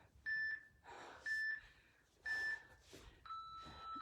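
A workout interval timer during an abs session sounds a series of clear electronic beeps, four short evenly spaced tones separated by quiet breathing, the last one lower in pitch.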